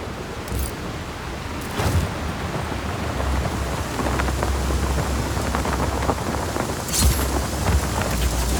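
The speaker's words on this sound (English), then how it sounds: "Storm's rolling in." Steady rain and rolling thunder from a storm in the action game Just Cause 4, a dense wash of rainfall with louder thunder swells near the start and again toward the end, no voices.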